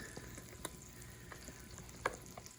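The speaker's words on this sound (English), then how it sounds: "Can you hear it sizzling?" Soft, steady sizzling of fish frying in a pan, quiet and close, with a few small pops and a light clink.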